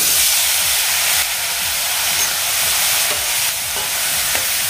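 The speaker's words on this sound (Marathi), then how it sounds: "यामध्ये मी आता हे आपल्या शेवग्याच्या शेंगा घालून घेते।" Drumstick pods (moringa) dropped into garam masala frying in a pan over a low gas flame, giving a steady, close sizzle with stirring throughout.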